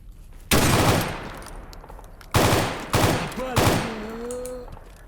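Enemy gunfire in the game Escape From Pripyat, loud sustained automatic bursts in three separate volleys with short gaps, the last fading under a brief tonal sound.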